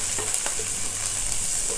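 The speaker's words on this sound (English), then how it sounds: "I just love the sizzle when you add anything to hot oil" Diced onions sizzle and crackle steadily in hot oil, a constant bright hiss with occasional pops and stirring sounds.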